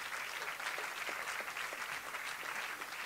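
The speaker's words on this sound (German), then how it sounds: "verdient auch einen Applaus für mich" Applause at a film screening and panel discussion in a cinema, steady and dense for about three seconds at moderate loudness, with no voices over it.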